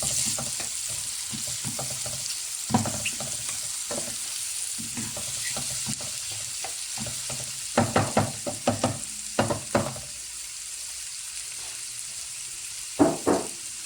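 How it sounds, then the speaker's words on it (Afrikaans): Mushrooms fry brown in a pan with a continuous sizzle, broken by bursts of spatula scraping and clattering around eight to ten seconds and again near the end, close and without talk. "Mushroompjes is lekker bruin gebrand. Nie gebrand nie. Gebraai."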